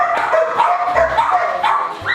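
A pet dog named Mia barks a few times indoors at close range, short yips and bow-wows rising over household noise and movement.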